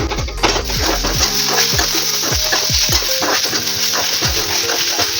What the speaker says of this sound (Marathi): आता यामध्येच आपण एक टोमॅटो पण भाजून घेणार आहोत।